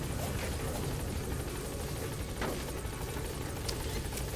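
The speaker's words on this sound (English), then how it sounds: "Oh, I see the chopper." Helicopter rotors beat in the Metal Gear Solid V video game, a steady, dense whirring drone that holds at a moderate level throughout with no speech.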